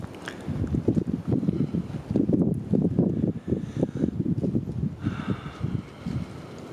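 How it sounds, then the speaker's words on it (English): Wind blusters across the microphone in uneven, throbbing surges, with a faint rustle in the background and no speech. "Every couple of minutes, a big gust will come through"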